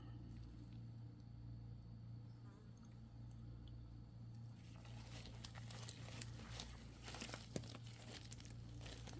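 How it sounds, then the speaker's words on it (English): A piece of plastic is handled and crinkled close by, a steady rustling crackle that grows busier partway through over a constant low hum, with one sharper tap near the end. "I think I'll put a piece of plastic"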